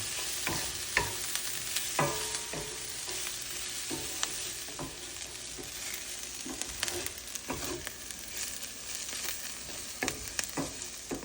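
Onions and butter sizzle in a skillet alongside browning potatoes for corned beef hash, a continuous close hiss punctuated by repeated scraping stirs and utensil taps against the pan, without any talking.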